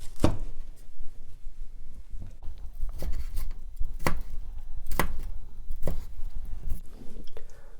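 A knife chops ingredients for Kung Pao chicken on a board, producing a series of close, distinct cuts in an irregular rhythm, each one a crisp knock, with no talking.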